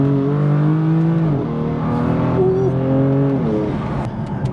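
A BMW M4 accelerating onto a motorway: a steady, loud engine drone that holds its pitch, then shifts twice as it changes gear, with no talking.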